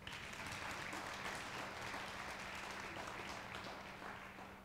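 Audience at a Productivity SA 25th anniversary event claps, a continuous wash of many hands heard faintly and from a distance, with a low steady hum underneath.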